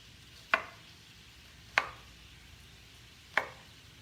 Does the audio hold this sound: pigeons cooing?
no